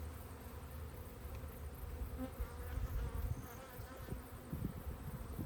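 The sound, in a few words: bees leaving the hive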